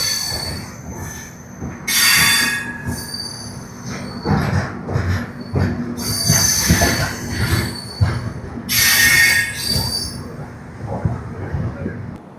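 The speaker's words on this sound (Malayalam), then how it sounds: "നമ്മളിതാ നമ്മുടെ ഡെസ്റ്റിനേഷൻ ആയിട്ടുള്ള രാമേശ്വരം സ്റ്റേഷനിലോട്ട് എത്തിട്ടോ" Mangalore–Rameswaram Express pulling into Rameswaram station, loud bursts of high wheel squeal recurring over a steady rumble of rolling railcars, with faint voices in the background.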